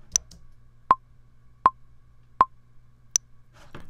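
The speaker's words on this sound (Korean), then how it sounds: "우리가 원하는 메트로놈 소리" Logic Pro metronome with the polyphonic option switched off, sounding a higher accented click on each downbeat followed by three lower, evenly spaced clicks, each one clean and separate against near silence.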